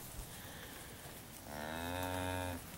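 Angus steers from a load of 625 lb grass-fed cattle give one long, loud, nearby moo that swells midway through and stops cleanly, with only quiet background before it.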